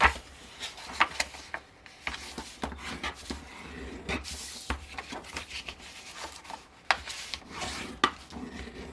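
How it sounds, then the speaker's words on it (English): Score lines on paper pages for a gift bag are burnished with short, scratchy rubbing strokes, close and quiet, coming in uneven bursts with small taps between them. "let's burnish up both pages"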